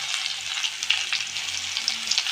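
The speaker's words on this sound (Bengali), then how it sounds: "তো আমি ফোড়নে কী দেবো? এই যে রসুন বাটা, এই শুকনো লঙ্কা" Garlic paste and dried red chilli temper in hot oil for an aloo dal, a bright continuous sizzle with crackling spits and small stirring scrapes, close and steady, with nobody talking.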